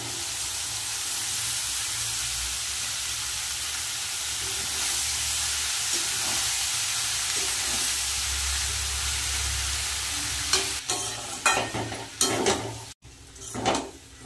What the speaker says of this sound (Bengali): মশলা কষানো হয়ে গেছে, এবার সেদ্ধ করা মোচা আর আলুটা দিয়ে দেবো।